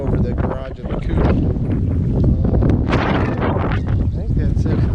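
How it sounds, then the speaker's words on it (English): Strong wind buffets the microphone outdoors at a farmhouse, a loud, steady rumble with gusts, while a person talks over it. "It's super windy."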